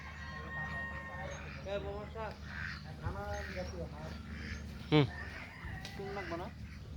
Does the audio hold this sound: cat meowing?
no